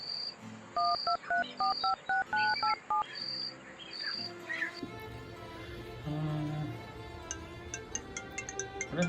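A phone's dial tones beep in a quick series, then a ringtone melody chirps and trills, with faint background noise.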